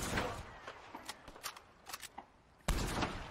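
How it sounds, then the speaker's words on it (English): Repeater carbine rifle from Red Dead Redemption 2 firing a string of sharp, moderately loud shots at an irregular pace, ending in one heavier, fuller blast near the close. "we have some footage of the repeater carbine"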